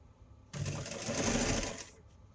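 A sewing machine runs in one steady, continuous burst, stitching through several layers of fabric for a camp chair caddy. The motor hum starts abruptly and then fades out, and it is close and clear with no talking.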